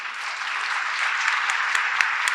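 Steady, dense applause from an audience for a student orchestra, close and sustained throughout.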